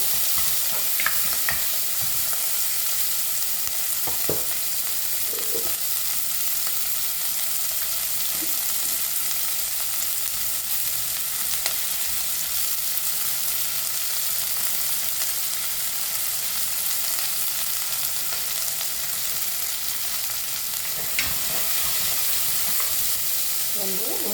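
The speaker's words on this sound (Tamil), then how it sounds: "வெங்காயம் கருவேப்பிலை வெந்தயில மூன்று பொருட்களையும் இப்போ வந்து கலந்து விடுங்க" Onion, curry leaves and fenugreek fry together in oil, a constant soft sizzle lasting the whole stretch, broken by occasional scrapes and clinks as the mixture is stirred.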